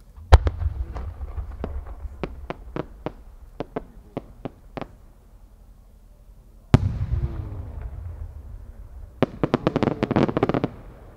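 No. 8 senrin-dama fireworks shells at the Aizu fireworks festival in a competition display: a rapid string of sharp crackling pops, then a heavy boom and a dense final cluster of bursting crackles, moderately distant.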